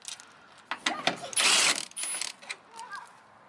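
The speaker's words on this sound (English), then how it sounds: "Milwaukee Impact with the 10mm. Just everything at the top. Anything that you can easily access, I'll remove right now." A Milwaukee impact driver removes 10mm bolts from a 2007 Subaru Impreza, giving short rattling bursts of hammering with a sustained run in the middle, close by and separated by quiet gaps and small clinks.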